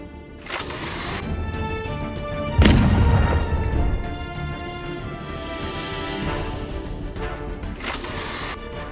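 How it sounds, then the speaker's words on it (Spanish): A fierce explosion from a drone attack on Russian troops hiding in a treeline, a single loud boom that swells and rumbles for over a second over a steady droning, music-like background. "La feroz explosión es la causante de las primeras víctimas del ataque ucraniano"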